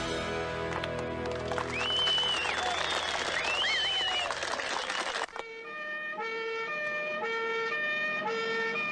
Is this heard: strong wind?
no